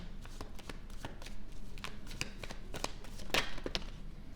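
Chakra Wisdom Oracle cards being shuffled by hand, a steady run of soft papery riffles and flicks with a brighter burst of card slaps near the end, close and fairly quiet with no talking.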